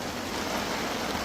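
Heavy rain pours down outdoors during a storm, a dense, even hiss that holds steady and loud throughout.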